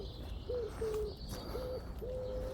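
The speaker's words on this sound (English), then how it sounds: "Listen to the birds." Faint, soft pigeons cooing in short repeated notes at a quiet reservoir, with a few scattered distant birds calling over a low outdoor background.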